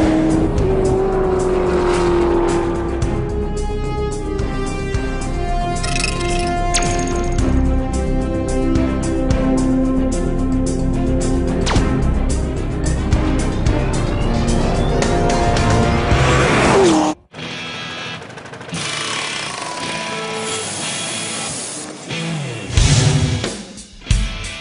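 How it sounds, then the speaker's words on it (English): A Chevrolet Corvette ZR1 sports car engine revs hard in loud, rising and falling bursts with tire squeal, then cuts to a quieter stretch of rumbling and a final surge. "The ZR1 is the newest Corvette."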